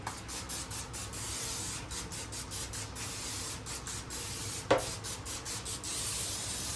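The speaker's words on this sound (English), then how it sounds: "spray it down real nice and good" Cooking spray misted into a baking pan for BBQ chicken sliders, a steady close hiss running several seconds with short pauses between bursts and one sharper burst near the end.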